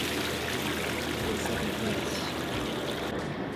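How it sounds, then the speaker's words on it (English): Running water from a garden hose sprays and splashes steadily over live crawfish being rinsed of mud, a continuous close pour with no pauses. "So all we're doing now is rinsing the mud off of these things"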